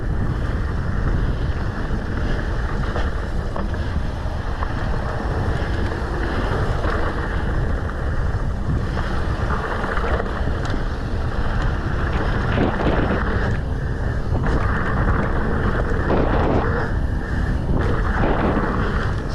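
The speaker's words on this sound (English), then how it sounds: "Ooh, that wind." Strong wind blows outdoors and buffets the microphone with a loud, continuous rumbling roar that lasts the whole time, with no voices.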